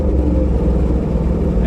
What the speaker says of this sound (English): you should be able to hear me blip the throttle when I shift